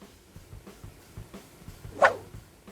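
A house dog chasing an intruder lets out one sharp, loud bark near the end, preceded by a few low, muffled gruffs and scuffling sounds nearby.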